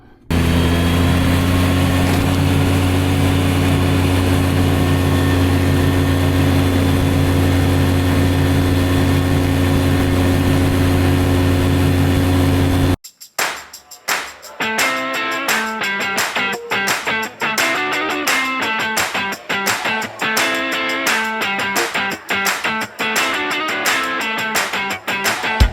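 A riding lawn mower fitted with a new mower deck cuts grass, its engine droning loud and steady, then shifting after a sharp break into a busier, choppier running sound close by.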